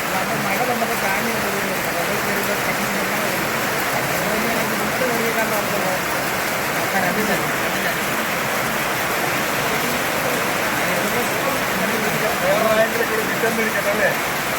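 Rain falls in a dense, steady hiss that fills the whole stretch, with faint voices murmuring underneath.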